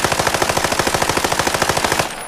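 MCX rifle firing full-auto in the shooter game Arena Breakout, a loud, rapid, steady stream of roughly twenty shots over two seconds, stopping abruptly near the end.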